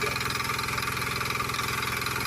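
A 2022 Agrikut power weeder rotavator engine runs steadily at idle, a continuous throbbing, mid-pitched chug that holds at an even level with no talking.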